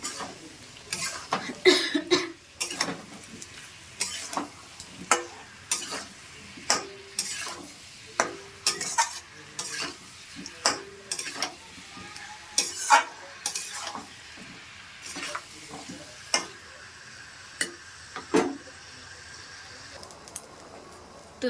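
Broccoli and paneer being sautéed in a gravy in a home kitchen, a faint low sizzle under repeated sharp clacks of a spoon scraping and tapping the pan in an uneven rhythm.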